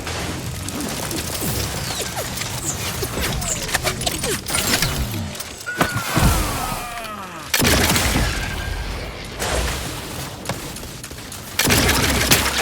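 Bursts of gunfire and crashing impacts from combat in the video game The Outer Worlds 2, irregular and moderately loud, broken by brief pauses and mixed with game effects.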